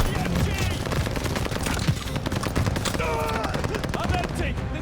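Machine gun fire in Call of Duty Vanguard, a dense, loud run of rapid shots that crackles steadily from start to finish amid the clamor of battle.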